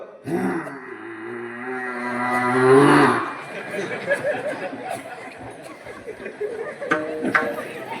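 During a kirtan, a voice imitates a calf's drawn-out mooing call to its mother for a few seconds, followed by quieter murmured talk and shuffling.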